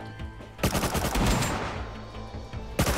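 Bots fire guns in the video game Rust, a dense burst of rapid automatic shots in the middle followed by a single sharp report at the end, loud and close with no talk.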